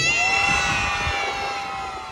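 Sea lion show audience at Manila Ocean Park shouting and cheering back to the host, a sustained mass of voices with children's high cries, loud and steady before fading slightly.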